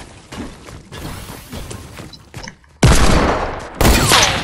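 Semi-automatic gunfire in a video game comes as a burst of rapid, loud, cracking shots, with heavier blasts and crashes toward the end. Nobody speaks over it.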